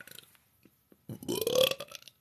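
One long, loud, gurgling burp from a young woman rises and wavers for about a second after a few soft mouth sounds, close to the microphone with no talking.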